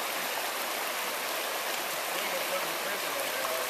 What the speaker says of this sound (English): this could be the first or second of a fairly big creek crossing